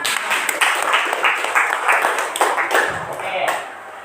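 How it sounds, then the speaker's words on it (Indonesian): A classroom of students in a teacher-training lesson claps for a group presentation, with dense, even applause for about three and a half seconds that fades out, with voices mixed in. "tepuk tangan dulu untuk kelompok 2"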